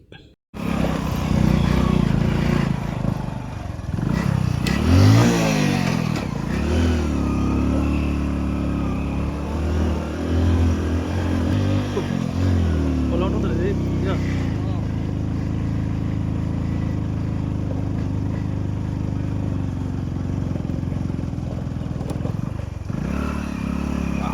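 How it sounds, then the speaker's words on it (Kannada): A motorcycle rides steadily at night on the way to a temple, its engine droning loud and close with occasional revs and rattles, while wind rushes past throughout. "ಸೊ ಈಗ ಬೈಕಲ್ಲಿ ಹೋಗ್ಬೇಕು ಅಲ್ಲಿಗೆ"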